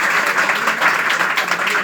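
Students in an audience at a motivational speech in Mahua clapping hard, a loud, dense and continuous round of applause.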